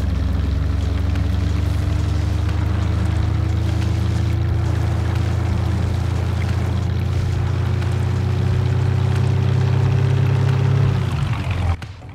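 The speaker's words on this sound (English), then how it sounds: "I'm going to be quiet so you guys can hear the engine real quick." A loud, steady truck engine drone in Farming Simulator runs throughout, with a slowly rising tone, then cuts off abruptly at the end.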